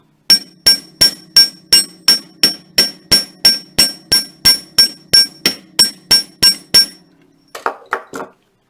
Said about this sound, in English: I'm working carefully not to hit anything else, and I don't need a whole lot of hammering,